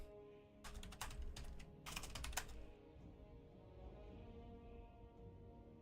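Typing on a computer keyboard during a Total War Warhammer 3 tournament stream, two quick bursts of close key clicks over a low background hum, then only the hum.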